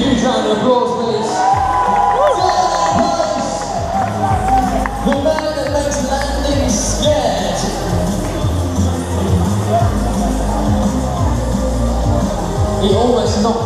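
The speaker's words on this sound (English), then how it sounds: "Can we give him a huge round of applause?" A crowd cheers and whoops at an indoor cycle show with stunt riding at the NEC, a loud, continuous roar of voices with scattered shouts and claps rising and falling throughout.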